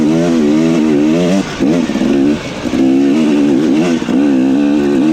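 A Yamaha YZ250 two-stroke dirt bike ridden close, its engine revving in repeated rising and falling surges with brief throttle-off dips between, loud and alone.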